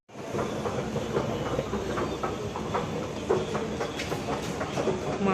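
A metro train runs with a steady, loud rumble and faint rhythmic clatter, heard from inside the moving train without a break.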